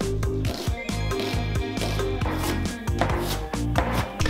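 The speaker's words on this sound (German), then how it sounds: "Als erstes schneide ich meine Zwiebeln und die Knoblauchzehe ganz klein." Onions and a garlic clove are chopped finely with a knife on a board, giving rapid, steady knocks close up that run continuously with no voices.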